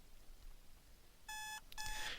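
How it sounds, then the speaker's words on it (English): An alarm in a film scene sounds two bursts of rapid electronic beeping, loud and sharp against quiet room tone, the second burst ending in a brief rustle. "we should hear the alarm beeps when we get up to this point"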